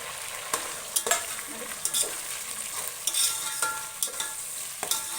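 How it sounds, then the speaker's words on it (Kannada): Green onion and green chilli fry in oil under a soft sizzle, with sharp spatula clicks and stirring taps landing every half second or so, close and without talk. "ಸ್ವಲ್ಪ ಚೆನ್ನಾಗಿ ಫ್ರೈ ಆಗಲಿ ಎಣ್ಣೆ ಒಳಗೆ"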